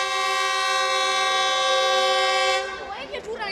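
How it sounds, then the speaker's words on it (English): A passenger train pulling into a station on the Kaduna line in Nigeria, its horn blaring in a loud, sustained tone for about two and a half seconds before cutting off into rumbling, clattering noise. "A few minutes later, the train arrives"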